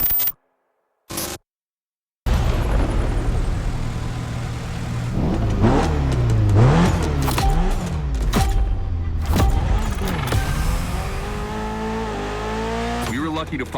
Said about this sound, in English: I need you to go pick up this Mitsubishi Evo 9